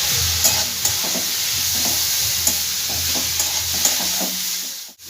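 Onion frying lightly in a pan and being stirred for egg rolls, a steady close sizzle with repeated scraping strokes of the spatula at an even pace, continuous and alone without voices.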